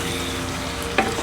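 Dried ribbonfish braises in a pan with a splash of water, giving a steady, close sizzle with a brief sharper hiss near the end.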